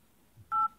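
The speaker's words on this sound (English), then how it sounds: "The other thing I tell people to do too is to hit pound" Pressing the pound key on a Boost network phone's keypad produces a single short, clean DTMF tone, close and clear against near silence.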